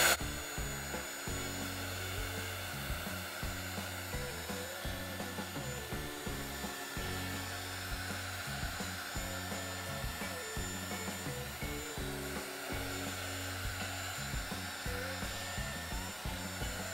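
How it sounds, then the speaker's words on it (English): A heat gun blows steadily while softening clumps of epoxy resin, a constant whooshing fan roar with a low motor hum that holds at an even level throughout. "you just have to use your heat gun and apply heat"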